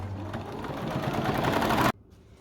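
A sewing machine stitches an apron in one continuous plain run, a close, rapid mechanical whir that cuts off abruptly near the end into quiet room noise.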